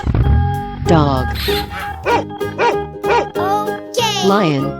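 A dog barks in a 3D animal slide game, giving a quick series of high, yappy barks and yips with a voice-like tone, and speech mixed in among them.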